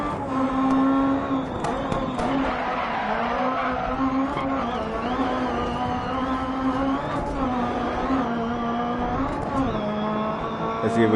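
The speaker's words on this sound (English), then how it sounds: "Oh, I bogged the engine down." A rally car engine in the DiRT Rally video game drones and revs steadily through shifts, its pitch rising and dipping as the engine bogs down, with brief tire noise, loud and continuous.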